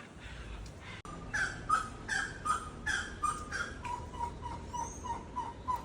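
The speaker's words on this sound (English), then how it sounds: "Can definitely hear the macaws in the background" Repeated harsh calls from macaws carry in the background of a forest setting, a rhythmic series of bright squawks at moderate distance alongside a steadier run of softer, evenly spaced notes, with no speech.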